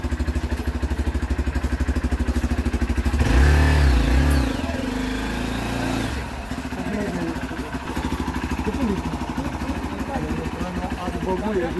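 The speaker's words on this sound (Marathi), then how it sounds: "ही एक्सपल्सर दोनशे सी सी आहे" A Bajaj Pulsar 200cc motorcycle engine chugs at a steady idle, surges into a loud rev for about a second, then settles back to a throbbing idle while someone talks nearby.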